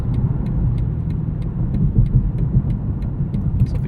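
A 2025 BMW M5 in M1 mode accelerates up a highway entrance ramp, its engine a steady, full rumble with swelling bursts of power and faint road noise throughout.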